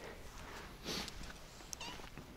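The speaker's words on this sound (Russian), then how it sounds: "Мяу." A friendly street cat in the Petrovka district on the western outskirts of Donetsk gives a short, close meow outdoors, followed by a second brief call amid quiet background noise.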